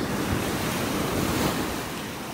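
Ocean surf rolls steadily onto a North Naples, Florida beach on a rough morning, a loud continuous wash of breaking waves with wind buffeting the microphone, no voices heard.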